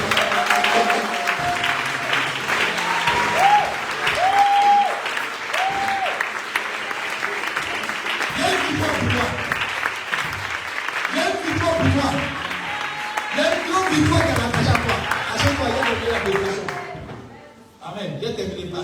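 A church congregation claps and applauds continuously throughout a gathering, with a loud, dense crowd sound under a preacher's speech, fading briefly near the end.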